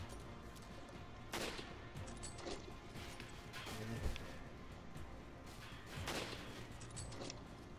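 Gunfire in the video game Resident Evil 5 comes as scattered sharp bangs and crashes at moderate distance over a steady noisy game background, with a few isolated shots spread across the stretch.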